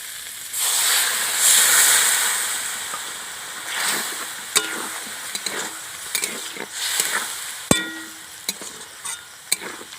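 Water poured onto a cooked-down masala in a pan for aloo dum, giving a loud hissing burst that settles into a steady sizzle with scattered clinks and taps of a spoon.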